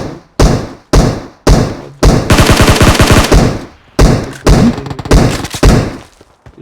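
Loud gunfire in a battle royale shooter game: bursts of heavy close shots and a sustained rapid automatic string in the middle, broken by short gaps, with a brief spoken word.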